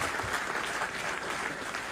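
Audience applause at a political gathering honoring the poet Abrar Kashif, a dense, even wash of clapping from a large crowd, loud and sustained throughout without a break, with no talking over it.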